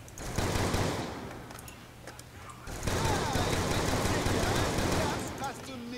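Rapid automatic gunfire rattles in sustained bursts during a Black Ops 2 Zombies match on the Buried map. A short lull falls between two long volleys, and faint talk sits underneath.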